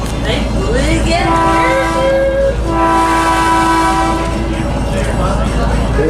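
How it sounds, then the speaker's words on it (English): A Hoosic Valley scenic train near North Adams, Massachusetts, blows its crossing signal at a public highway: two long, loud, steady horn blasts separated by a short gap over constant rail rumble, with people talking faintly nearby. "the train has to make a particular pattern of signal when going across a public highway like this"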